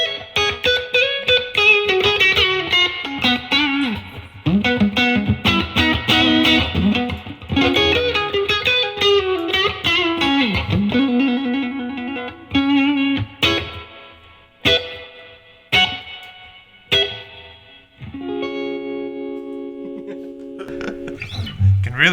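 Telecaster guitar played through a Universal Audio Dream amp pedal with reverb, loud strummed chords and picked notes ringing out, then sparse single notes with long reverberant tails fading between hits.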